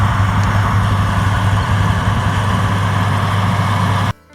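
An International Harvester D361 tractor diesel engine runs at a steady idle, a loud, constant low rumble with a strong droning hum and even mechanical chatter, continuing unbroken before cutting off abruptly at the end.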